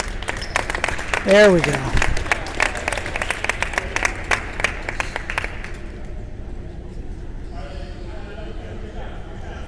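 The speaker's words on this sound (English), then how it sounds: "And I think she deserves a round of applause." Crowd applause and cheering at a junior varsity girls' basketball game in a gym, with a whistle-like tone early; the clapping is loudest in the first half, then fades to a low murmur as a voice speaks briefly.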